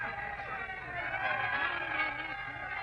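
Crowd hubbub in a radio drama, a continuous murmur of many voices at a middle distance, steady and moderately faint.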